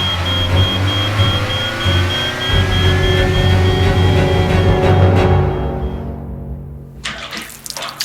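A car driving, heard as a steady engine rumble with a thin high whine that fades out after several seconds, ending in a brief burst of clatter.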